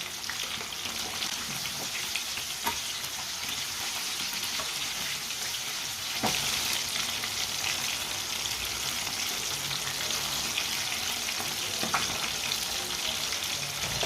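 Fish frying in hot oil, cooked a few minutes per side, gives a steady, dense sizzle that carries on alone for the whole stretch, with a few sharp pops and crackles breaking through.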